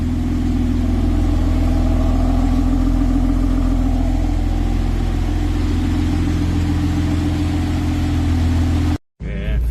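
A BMW M3 with an S55 engine runs steadily after starting, a loud, close, even drone that holds throughout before cutting out abruptly near the end.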